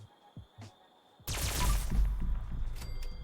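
Alien Blaster fire in Fallout 76: after a few quiet tones, a loud rapid burst of energy-weapon shots erupts and rattles on continuously with a deep rumbling underneath, ending with a couple of brief high zaps.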